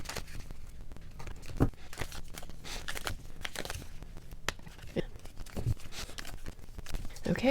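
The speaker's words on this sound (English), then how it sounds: "I'm going to give it a couple more shuffles here." Tarot cards shuffled by hand in a quiet morning room, a steady papery riffle and slap of the deck close by, with brief bits of talk here and there.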